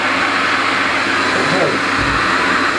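A dust extraction vacuum for a router on a drawer dovetail job drones steadily and loudly, a broad constant roar that fills the whole stretch with no break.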